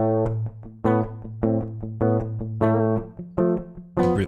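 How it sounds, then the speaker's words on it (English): Dry electric guitar with no effects, played in a choppy rhythmic riff: clipped, twangy note bursts over a held low tone, fairly close and clean, with no voices. "The guitar without the effects sound like this."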